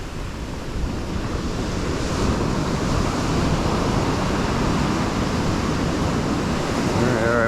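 Ocean surf breaks and rushes onto a Florida beach in a continuous loud wash of whitewater, with wind buffeting the microphone throughout.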